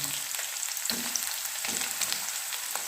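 Finely chopped onions hit hot oil in a pan for a fish curry, a loud steady sizzle that crackles continuously, with a few soft stirring bumps underneath.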